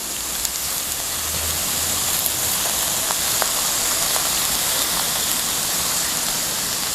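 Tofu scrambling in a hot pan for a vegan scrambled-egg dish, a steady sizzling hiss that runs evenly throughout, close and fairly loud, with no voices over it.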